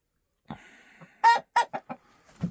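Chickens and roosters in a village coop, one hen giving a run of loud close clucks in quick bursts, with a fainter drawn-out call before them.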